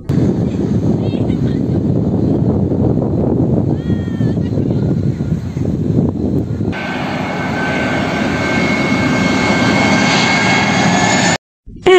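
Aeroplane coming in to land, a sustained heavy engine roar that shifts partway through into a brighter whining jet tone with steady high pitched components, loud and continuous until a sudden cut.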